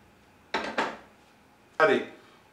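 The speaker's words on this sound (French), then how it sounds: "on mélange tout doucement pour que la préparation soit bien homogène" A utensil knocks against a bowl as hot milk is mixed into vanilla flan pâtissier batter: two quick clinks, a pause, then a third louder one, close and sharp against near silence.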